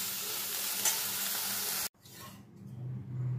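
Prawns fry in a pan with a loud, steady sizzling hiss for nearly two seconds, then it cuts off abruptly, leaving quieter low-level room noise.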